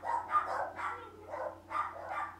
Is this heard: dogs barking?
yes